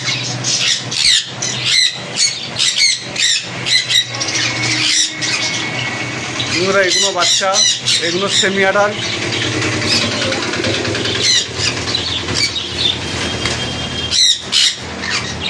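Conure parrots squawk in a bird shop, with frequent shrill, harsh calls overlapping close by while someone talks continuously over them.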